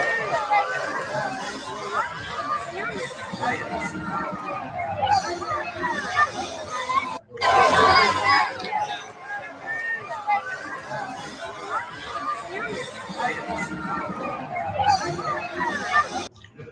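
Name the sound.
packed crowd chattering at a basketball tournament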